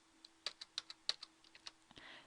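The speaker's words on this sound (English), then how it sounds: "let me pause and I'm going to type all this stuff in" Quick key presses on a calculator as numbers for statistics lists are entered, a string of crisp, faint clicks in an irregular rhythm, alone in a quiet room.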